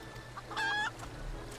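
A tamed rooster that has been painted green gives one short, clear cluck in the video game Final Fantasy XIV: A Realm Reborn. It sounds close and fairly loud against a quiet, even background.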